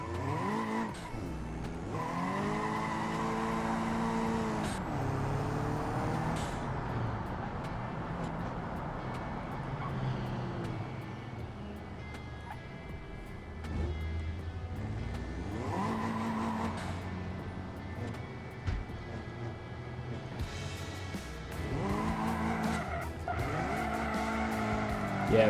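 Car engine revving with turbo lag and repeated tire skids and squeals in BeamNG racing, a loud, continuous engine drone rising and falling with bursts of tire noise throughout.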